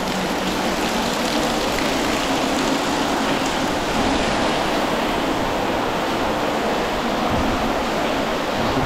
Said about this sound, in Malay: Bunyi air terjun.